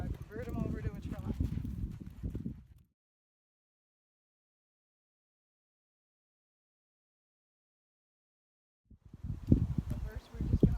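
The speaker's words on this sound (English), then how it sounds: "First, we're just going to walk him through, because we don't want him to run through and obliterate it." A horse's hooves clop as it is walked over ground poles (cavaletti). Two bursts of close hoofbeats mixed with voices are separated by several seconds of silence.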